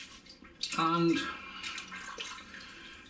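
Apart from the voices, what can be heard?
water being poured off the top of shaving soap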